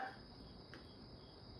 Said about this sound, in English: I hope the cricket didn't get in there.